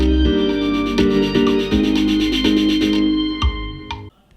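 A GarageBand arrangement of a pop song plays loud and up front, with sustained synth and string tones under a regular pulsing beat as the trapdoor sound's volume automation takes effect, then cuts off sharply.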